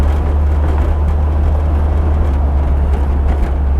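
Inside a Porsche 914 race car cruising in fourth gear, a loud, steady low engine drone with road rumble continues unbroken, close and constant, with no talking.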